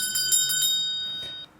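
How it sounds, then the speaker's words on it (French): A small hand bell rings several quick bright strokes, then a final strike decays, signalling attendees at a conference to switch networking partners. "C'est le son d'une cloche que vous allez entendre."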